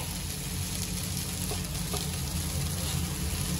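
Ragi neer dosa roasts on a hot pan with a steady, even sizzle close by, a dense continuous hiss with a couple of faint pops and no talking.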